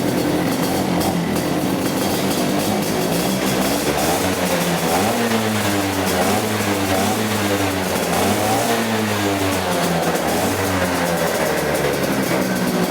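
A small two-stroke P-series Vespa scooter engine, noisier than stock, runs loudly and continuously up close, its raspy note rising and falling as the throttle is blipped.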